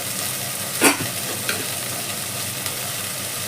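Chili powder being stirred into drumstick dal in a pan, with one brief scraping stroke of the spoon near the start, followed by quiet, faint kitchen background and a couple of tiny clinks.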